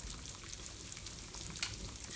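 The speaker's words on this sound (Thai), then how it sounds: "นี่น้ำเดือดแล้วนะคะ ฟองก็จะขึ้นมา" A pot of pork bone stock with onion and carrot boils, giving a steady bubbling, sizzling hiss that stays even and close throughout with no voices.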